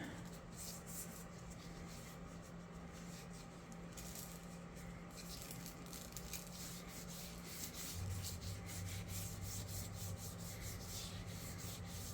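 A hand rubs oil into a wooden Red Ryder BB gun stock with steady, soft, close-up friction strokes that continue evenly throughout, with no talking.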